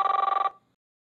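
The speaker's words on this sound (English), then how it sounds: "It's ringing." A cell phone rings with a brief burst of rapid electronic trilling, loud and close, then cuts off into silence.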